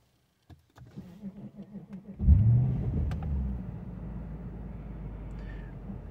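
An Infiniti car's engine cranks and fires, surging in a brief rev before settling into a steady low idle rumble, preceded by faint clicks of the starter cycle.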